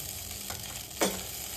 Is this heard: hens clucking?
no